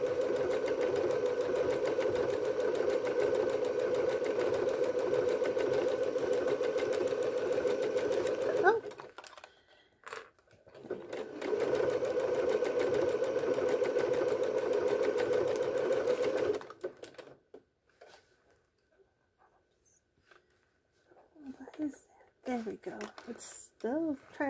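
A sewing machine runs steadily while a skirt is stitched, loud continuous whirring in two long runs with a pause between, then stopping as a person talks.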